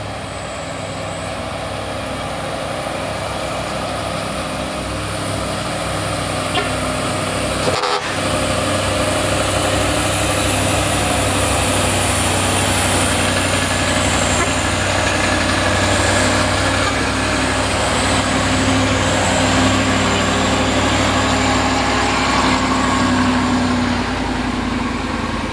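Vegetable trucks grind up the steep Bukit Kodok hill, heavy diesel engines droning loud and steady under strain, with one sharp knock partway through.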